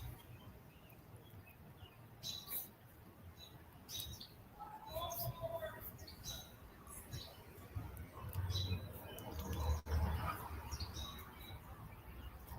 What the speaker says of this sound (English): Bird chirping. Yeah, there's birds.